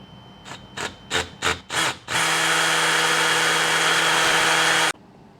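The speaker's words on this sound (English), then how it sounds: "let's drill these out, and we'll use the fasteners that came with it" A power drill with a 3/16 bit drilling holes gives five short, quick bursts, then runs continuously for a few seconds before stopping. Close and loud, with no voices.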